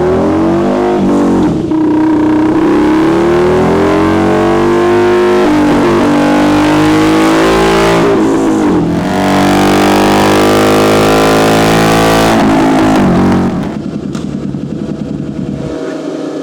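A Harley V-ROD motorcycle on a dyno revs loud and close, its engine note climbing and wavering as it breaks up and stumbles under partial throttle before easing off near the end.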